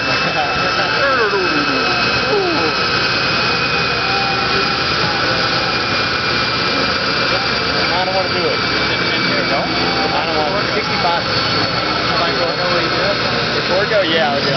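A 2005 Mustang SVT/GT V8 runs on a dyno, its throttle body adding a loud, steady engine roar that fills the whole stretch with no pause, while voices talk faintly underneath.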